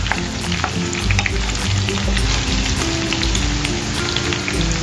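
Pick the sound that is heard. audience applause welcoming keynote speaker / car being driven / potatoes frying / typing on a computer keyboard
potatoes frying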